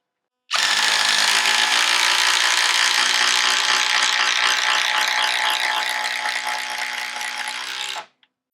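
A 12-volt impact driver drives a 5-inch TimberLOK screw into wood, giving one loud continuous rattling hammer lasting about seven and a half seconds, steady throughout and fading slightly before stopping abruptly.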